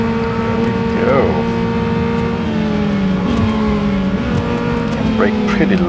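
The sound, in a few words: Honda S2000 race car engine in Real Racing 3 video game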